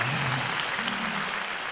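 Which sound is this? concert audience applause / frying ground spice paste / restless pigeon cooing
concert audience applause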